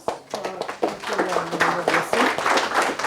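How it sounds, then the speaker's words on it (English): Audience clapping after a tech talk on DevOps, cloud and AI, a dense spread of hand claps building and holding steady for about three seconds, with some voices mixed in. "A big round of applause"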